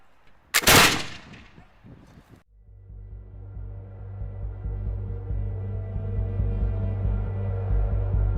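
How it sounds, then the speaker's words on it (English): Musket fired: one sharp, loud blast followed by a long, rolling rumble of echo and smoke-thick reverberation that builds and lingers. "You then present your musket, you bring him on, lock him, prepare to fire!"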